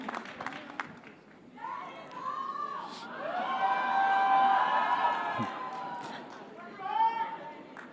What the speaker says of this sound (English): So a big round of applause, ladies and gentlemen, for Yash.